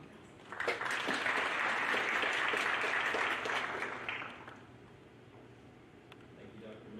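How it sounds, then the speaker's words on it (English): Audience applause after a district speaker's introduction, a burst of clapping that swells quickly, holds steady for a few seconds, then fades into quiet room noise. "So if you would, please, a round of applause for Dr. Borowski."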